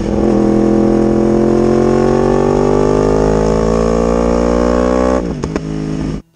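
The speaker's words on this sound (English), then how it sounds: "it's one of the best-sounding motorcycles on the list" Loud, sustained engine revving of a 1000cc sport motorcycle, a Yamaha R1M, with a steadily rising pitch, then dropping off abruptly near the end.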